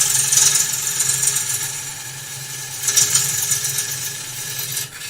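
A wood lathe spins steadily while a tool cuts into a wooden bowl, giving a continuous close hum with two brief bursts of scraping chatter.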